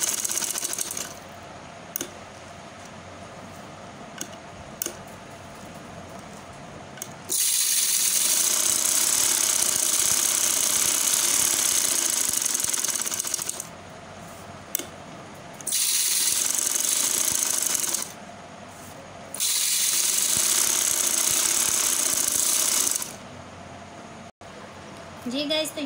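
A sewing machine stitches lace onto a trouser in several loud, rapid buzzing bursts of a few seconds each, with quiet pauses between them.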